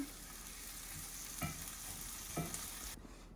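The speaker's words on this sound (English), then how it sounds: "now we're gonna put the onions in the pan. Then we're gonna move them around a little bit." Onions sauté quietly in a pan with a soft, steady sizzle, broken by two distinct scrapes as they are pushed around, before the sound cuts off near the end.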